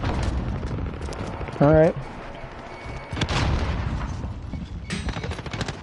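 A grenade goes off in a video game as a single blunt, mid-level blast partway through, set amid ongoing game noise while a voice talks briefly.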